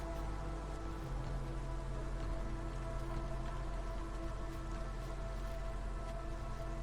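Rain in the colony-building video game Against the Storm, a continuous steady patter and hiss with a low rumble underneath, evenly sustained throughout and fairly soft, without any talking.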